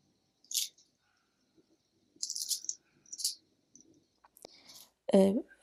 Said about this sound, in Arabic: اسمعوا القرشة